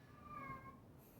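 In a backyard, a stray cat lets out one faint, drawn-out meow that rises and then trails off. It sounds some distance away against quiet background noise, with no one speaking.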